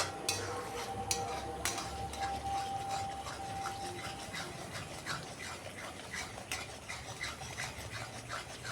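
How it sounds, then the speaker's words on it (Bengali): Aloo paneer with milk is stirred in a pan, soft scraping and clinks of a spoon against metal over a low simmering hiss, quiet and continuous. "প্রায় 5 থেকে 6 মিনিট হবে আমি এইভাবে কষাচ্ছি।"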